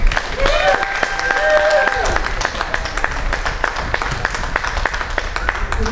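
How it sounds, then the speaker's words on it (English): A crowd at a polo tournament's trophy presentation applauds with steady, dense clapping that holds for several seconds, with a voice briefly heard over it near the start. "So let's welcome all these guys once more with a round of applause"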